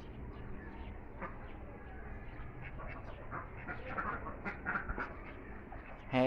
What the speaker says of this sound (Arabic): وهادي البطة المسكوفي يا عيوني